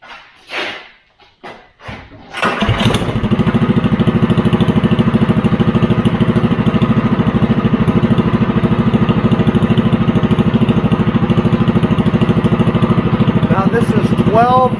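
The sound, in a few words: Predator 212 engine starting and running with 12-disc muffler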